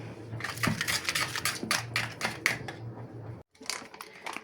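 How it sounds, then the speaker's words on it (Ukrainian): Rapid metallic clicking and scraping of a whisk against a bowl while whisking pie dough ingredients with sugar, quick and irregular, pausing briefly before resuming, with a low hum underneath. "І все це маємо взбити."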